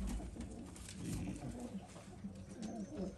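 Pigeons in a loft give low, overlapping coos close by, a continuous murmuring chorus with occasional soft knocks and rustles.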